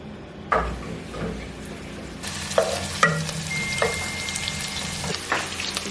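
Liver sizzles in a pan on the fire with a clove of garlic added, a steady frying hiss broken by several sharp stirring clatters and taps close by, with no one talking.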